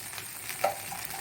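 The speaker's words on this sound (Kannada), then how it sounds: "ಈಗ 2ನೇ ದೋಸೆಗೆ ಸ್ವಲ್ಪ ತುಪ್ಪವನ್ನು ಸೈಡ್ಸ್ ಮತ್ತು ಮೇಲಿಂದ ಹಾಕೊಳ್ಳೋಣ." Ghee drizzled around and over a wheat appam dosa cooking on a pan gives a faint, quiet sizzle with a soft scrape partway through.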